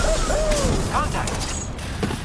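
Pistol reload in Apex Legends, a short run of faint mechanical clicks and ratcheting over quiet game ambience.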